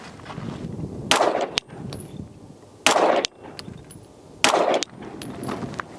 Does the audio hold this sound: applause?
no